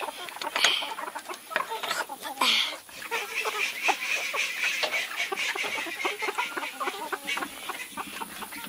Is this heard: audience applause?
no